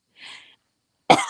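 A single short cough from a woman, preceded by a faint breathy throat sound, close and alone with no talk.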